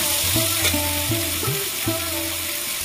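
Chopped tomato frying with onion and chilli for a loitta fish jhuri, an even sizzling hiss in a pan with recurring low tonal hums and bends layered over it.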